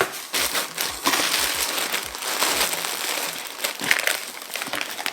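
Packaging inside a Misfits Market delivery box crinkles and crunches close up as it is pulled open and handled, with a dense, continuous rustle and a few sharper crackles.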